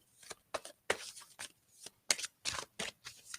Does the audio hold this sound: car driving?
no